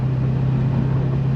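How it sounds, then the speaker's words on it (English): An LS7 V8 with a dropped valve, tuned to 615 horsepower, drones in a steady, loud, near hum at cruising speed, with no clear rise in revs. "Do a little third gear rip here"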